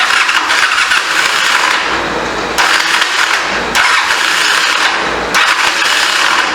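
A 1985 Honda CMX 450 Rebel motorcycle engine cranks on its starter in three long bursts with short pauses, a loud, steady whirring churn that turns over without catching, no talk over it.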